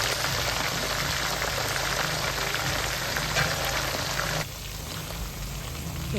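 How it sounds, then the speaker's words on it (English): Chicken frying in oil at medium heat for Nigerian stew, a loud, steady dense crackle and sizzle close by, easing slightly partway through. "I'm gonna start frying my chicken, all my protein that I boiled earlier"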